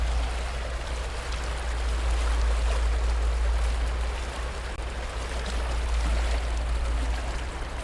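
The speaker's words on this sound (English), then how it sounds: "Look at this nice little creek over here." A small, clean creek near Lake Louise, Canada, makes a steady, broadband rush of flowing water, constant and fairly close, with a deep low rumble underneath and no voices.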